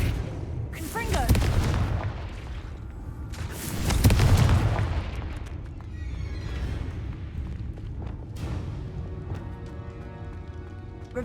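Confringo fire-blast spells explode in Hogwarts Legacy as two heavy booming blasts a few seconds apart, each swelling and fading into a lingering rumble, with a voice in the background.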